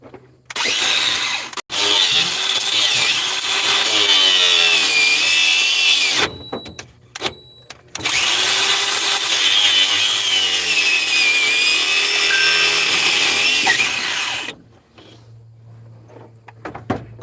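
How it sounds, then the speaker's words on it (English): DeWalt angle grinder cutting: a loud, sustained high whine with a brief dropout near the start, a short break with a few quick bursts, then a long continuous cut before it cuts off. "I got to cut with my grinder."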